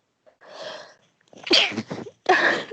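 A single loud, close human sneeze builds from a short inhale into a sharp burst, followed by a brief trailing gasp, with no talk over it.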